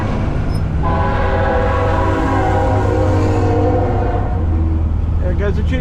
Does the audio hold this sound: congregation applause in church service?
no